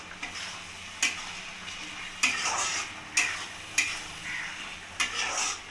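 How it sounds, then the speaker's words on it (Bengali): Ground coriander, cumin and garam masala are stir-fried for a thin country chicken curry, with a soft sizzle under sharp, regularly spaced scrapes and taps of a spoon against the pan, fairly quiet with no talk. "এবার আমি মশলাটাকে ভালোভাবে কষিয়ে নেব"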